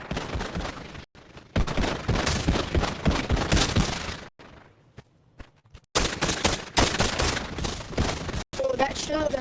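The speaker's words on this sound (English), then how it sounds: "there's some dude at the tent next to the trench firing at me with like..." Dense gunfire from the WW2 zombies mode of the video game Pavlov comes in long, loud, continuous bursts with brief gaps of near silence between them.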